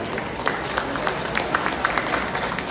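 An outdoor crowd at a Hmong New Year celebration gives scattered, moderately distant applause, with individual claps standing out over a steady background murmur.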